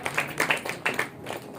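Scattered hand claps from an audience at a Women's Day celebration, a handful of sharp, moderately loud claps in uneven bursts with brief gaps between them.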